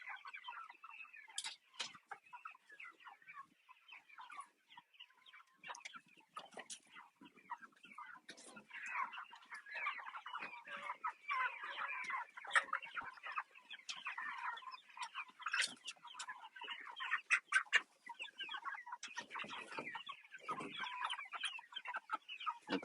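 Chickens clucking on a farm, a dense, soft chorus of chatter and sharp clucks continuing throughout, fairly close but low in level, with occasional quiet talk mixed in.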